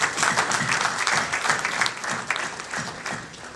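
Audience applause in a hall during a 2012 Houston evening show by Anwar Maqsood and team, as a Pakistani consul general is welcomed; steady clapping fills the whole stretch, moderately loud and unbroken.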